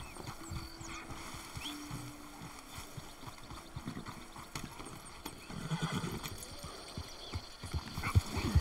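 Horse hooves clip-clop at a gallop with whinnies and neighs in the video game Red Dead Redemption 2, with steady hoofbeats under a wash of ambient outdoor noise that builds louder toward the end.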